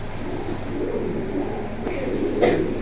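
Pigeons at a bustling pigeon market in Kalendi, Keraniganj, Dhaka, giving soft low coos amid steady crowd murmur, with a brief louder flutter or call near the end.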